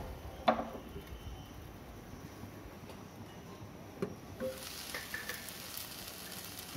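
Okra fries in a pan with a soft, steady sizzle, faint and close, broken by a few small clicks and taps of a utensil.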